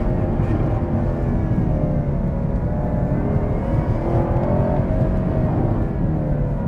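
A 2021 Chevrolet Camaro ZL1 engine drones steadily from inside the car on a winding road, a low, continuous rumble with road noise and no sharp revving.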